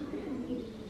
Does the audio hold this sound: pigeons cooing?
yes